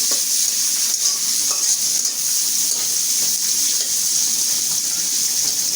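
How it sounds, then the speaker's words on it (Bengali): Onions frying in a pan for a chickpea vegetable curry, a steady close hiss and sizzle of hot oil with soft stirring scrapes, continuous and even, with no one speaking. "পেঁয়াজ দিচ্ছি এখন"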